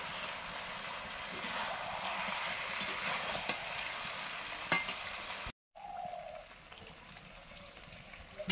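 Water poured into a pot of hot oil and browned meat for a light Bengali meat curry, a steady loud hiss and bubbling sizzle that drops out suddenly, then resumes lower and calmer. No one talks.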